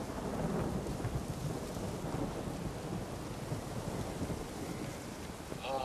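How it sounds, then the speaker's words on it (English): Rain and rolling thunder in a monster-fighting video game, a steady, dense wash of storm noise with low rumbles and a windy roar running throughout, no voices over it. "It's always rainy as shit."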